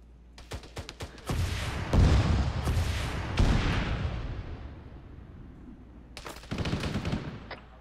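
Heavy vehicle main gun in a combat video game pounding out repeated loud, booming shots with rolling gunfire in between, a dense barrage that eases off midway and then resumes with sharp blasts near the end.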